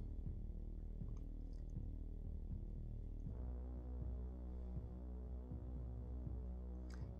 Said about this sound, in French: Couture au point droit à 3 de longueur.